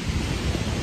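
Dense, steady roar of a small waterfall at the lowest falls, heard close up as continuous broadband rushing water with no voices.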